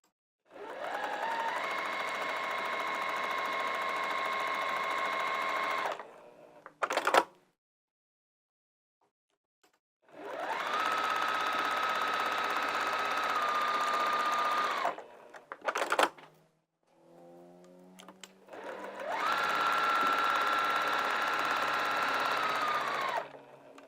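A sewing machine stitches fabric with Gutermann thread in three long, steady runs that rise to a humming motor tone, each separated by quiet gaps with brief handling clicks.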